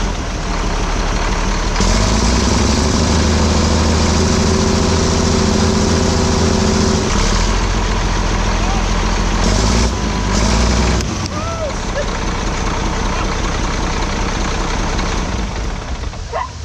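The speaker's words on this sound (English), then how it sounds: "Maybe try revving it up a bunch." Old CAT 977 track loader diesel engine, sitting unused for 37 years, runs loud and close and rises into a heavy rev for several seconds, then drops back to a rough, steady idle.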